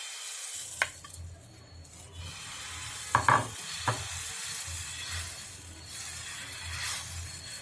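Semolina batter spread thin on a pan over a low flame, cooking without extra oil; a faint, steady sizzle runs throughout, broken by a few sharp scraping ticks from the utensil.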